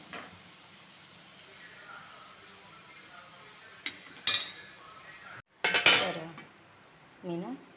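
A metal lid set down onto a pan of onions cooking over a low gas flame, giving a couple of close, sharp clanks with a brief rattle, amid faint kitchen background.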